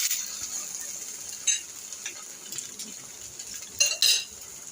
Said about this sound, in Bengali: তো এখন আমি এগুলোকে দিয়ে দিচ্ছি ভাজতে।